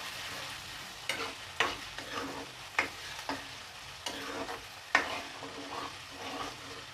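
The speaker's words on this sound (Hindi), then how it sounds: "और इसको भी इन प्याज़ों के साथ हम फ्राई करेंगे और इसको भी गोल्डन करेंगे हम" Onions and ginger-garlic paste fry quietly in a pan while being stirred, giving irregular scraping strokes over a soft, low sizzle.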